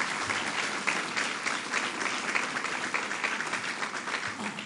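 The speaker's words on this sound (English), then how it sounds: "Let's give him a round of applause as well." Steady applause from an audience at a government announcement event in Rochester, honoring the Assembly majority leader; dense, continuous clapping holds at an even level for several seconds with no voices over it.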